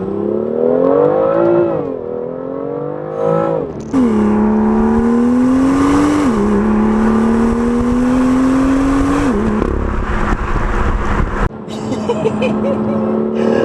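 A BMW M2 engine revs hard and loud, pitch climbing in rising sweeps with brief drops between gear changes, sustained close-up throughout.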